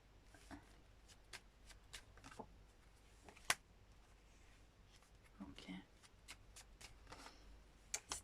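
Playing cards shuffled and handled during a French tarot-style card reading, with soft riffles, taps and slaps recurring through the clip, one sharp snap near the middle, fairly close and moderate in level, with no talk.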